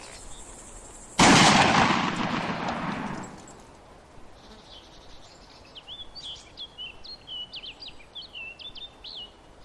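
A single loud gunshot blast in the Sturmtroopers video game, with a long decaying echo, followed by chirping bird calls in the background.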